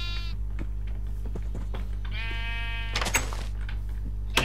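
Sheep bleating in the Minecraft video game, several wavering game-sound bleats at close range, the clearest one mid-clip, with no talk.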